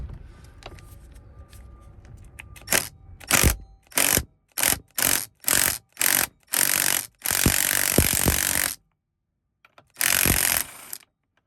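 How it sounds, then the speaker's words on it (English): An impact driver works loose the 21mm center nut on a Chevy Express / GMC Savana steering wheel, rattling out a run of short loud hammering bursts, then longer sustained spins, close up and without speech. "I'm going to use my handy dandy impact driver to remove this."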